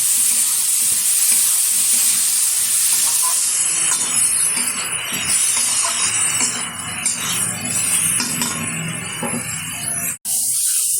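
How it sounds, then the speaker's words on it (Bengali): Ground onion paste frying in goat fat for a jackfruit curry, a loud, continuous sizzle and hiss with occasional stirring scrapes throughout and no talk. "দিয়ে দেবো এখানে বেটে রাখা পেঁয়াজ। খুব সুন্দরভাবে কষিয়ে নিতে হবে পেঁয়াজটা।"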